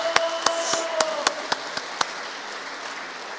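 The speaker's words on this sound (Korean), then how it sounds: "세주 메시아 참부모가 되시는 우리 문선명 총재님과 한학자 총재님 양이분을 위해서 큰 감사와 위로의 박수를 보내주시기 바랍니다." A sparse round of applause in a church, heard as about eight distinct, separate claps over two seconds before fading into room hiss.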